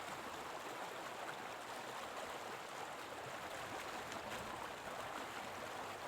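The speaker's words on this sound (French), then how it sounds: "On entend l'eau, on se rapproche." Mountain stream in the Auvergne near Chastreix, flowing below a hiking spot, a steady, faint broadband rush of water with no voices.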